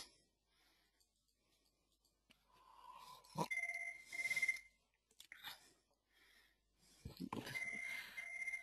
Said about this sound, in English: answer this phone that's ringing 50 times already